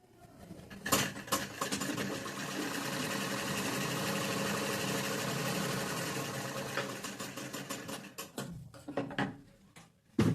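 A sewing machine runs steadily, stitching the lining of a chudi top, with a sustained mechanical whir that starts and stops near the end, close and alone without talk.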